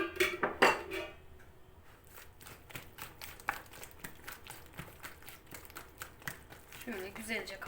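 A spoon clinks steadily against a bowl while dough with sugar is mixed for Erzurum walnut sini kete, giving a dense run of quick close taps that follows a few louder knocks at the start.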